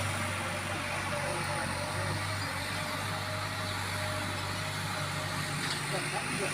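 A tractor engine runs on a vegetable farm in the rural Philippines, a constant low idling hum, moderately close and unbroken for the whole stretch.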